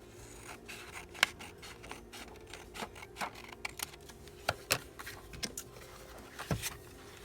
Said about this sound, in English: this one we can cut in half.